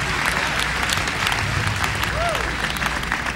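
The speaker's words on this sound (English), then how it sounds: "Give him a round of applause just for doing that for all of you around the nation" An audience at the Apollo Theatre in New York breaks into loud, sustained applause filling the hall, with crowd noise and a voice faintly mixed in.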